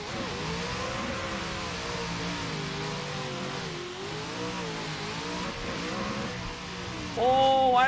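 Video game car engine revving while drifting, pitch sweeping up and down continuously at close range, with a brief sharper whine near the end.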